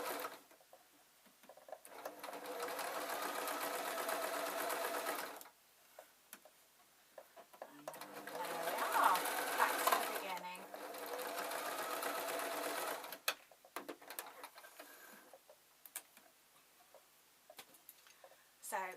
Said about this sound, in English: I'm just literally sewing up, making sure that the seams meet